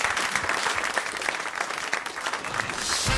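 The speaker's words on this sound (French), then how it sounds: "On vous applaudit." Dense, loud applause from a studio audience at the Foire de Paris, continuous clapping that fills the short moment without a break.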